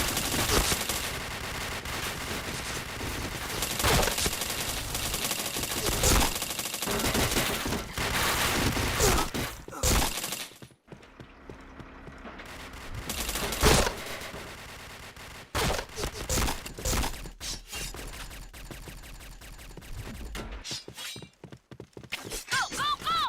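Gunfire in the Point Blank shooter game, dense rapid bursts and single shots crowding the mix, with brief pauses and a quieter stretch midway, voices occasionally under it.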